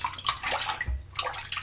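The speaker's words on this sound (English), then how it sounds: "Put my hand in the water real quick." A hand dipping into a bowl of water during shaving soap lathering, giving a brief close splash and sloshing with light swirling water sounds, no talking.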